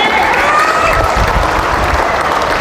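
A church congregation at a healing service claps together in sustained applause, dense and loud throughout, with crowd murmur mixed in.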